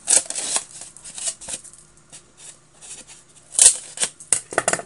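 Scissors snip into the corners of a small plate made from a recycled aluminum can, a series of sharp, crisp metallic clips and crinkles in irregular bursts, close up, with no voices.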